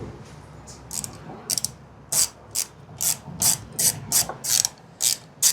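A ratchet backs screws out of the power trim on an outboard motor. It makes a series of crisp, close clicking strokes in irregular bursts, growing steadier and more rhythmic as it goes, with no talk.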